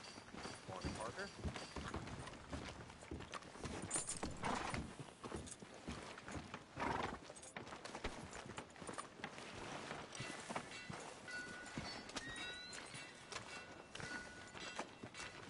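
A horse's hooves clip-clop on a street in the video game Red Dead Redemption 2, a steady rhythmic clatter running under ambient game sound and character dialogue.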